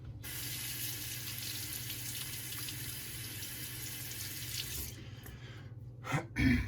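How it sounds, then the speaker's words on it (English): A safety razor is rinsed under a running tap, a steady broadband rush of water hitting metal and the sink that continues for about five seconds, then breaks into a few brief splashes as the flow stops. "Now you're gonna want to rinse your razor."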